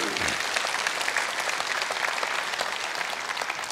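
Steady, dense audience applause fills a conference hall at a regional Innlandet gathering, sustained and even from start to finish with no voices.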